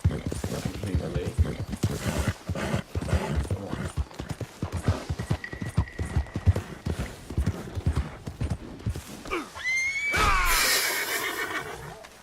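In Red Dead Redemption 2, horse hooves clip-clop rapidly and continuously before a loud, shrill neigh rings out near the end.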